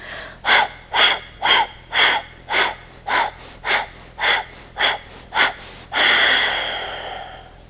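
Rapid, forceful kapalabhati breaths repeat in an even rhythm, about a dozen sharp exhalations, then a long loud exhale at the end.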